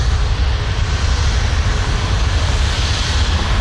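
An airplane rolling down runway 23 at Toronto Pearson airport, a loud steady broadband engine roar with constant rumble, no voices.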